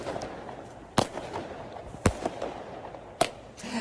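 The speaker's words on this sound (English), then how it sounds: "setting off fireworks outside the Penrith Team Hotel" Fireworks set off outside the Penrith rugby league team hotel give three sharp, loud bangs at roughly one-second intervals, with crackling and faint outdoor noise in between.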